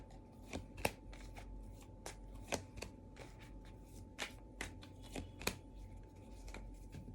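A tarot deck is shuffled by hand for a Capricorn reading, making faint, sparse papery riffles and soft taps at an irregular pace, with no voices.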